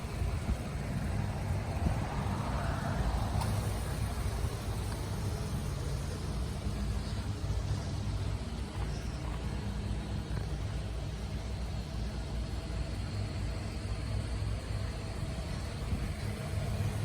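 A 2011 Mazda6 i Sport V6 engine idles steadily with a low, even rumble close to the microphone, unchanging throughout and with no talk.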